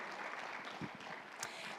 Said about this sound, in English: Let's have another round of applause for our panel.